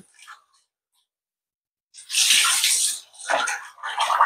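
Food being washed by hand in a bowl of water, with sloshing and splashing bursts that start after a quiet pause, then a brief gap, then more swishing, close and fairly loud.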